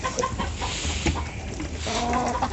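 Leghorn hens cluck in short, repeated calls close by, with a few louder squawks standing out over a busy coop background.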